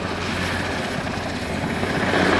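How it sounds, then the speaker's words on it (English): A Royal Navy Westland Wessex search and rescue helicopter from a historic helicopter collection gives a loud, close, continuous roar of rotor and turbine engine, steady throughout with no breaks. "Used as a search and rescue helicopter by both the RAF and, as we see here, the Royal Navy."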